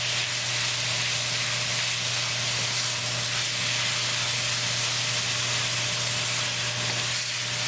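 Ground bison cooks in a pan over a low gas flame, giving a steady, even sizzle and hiss that holds constant throughout without pauses.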